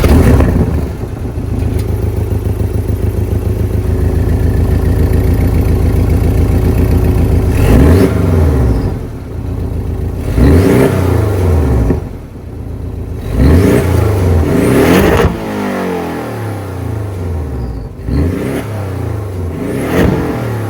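A 2024 Porsche 718 Cayman S with a turbocharged 2.5-liter boxer four-cylinder is heard from outside: a steady loud idle, then several sharp throttle blips that rise and fall, each revving up and dropping back.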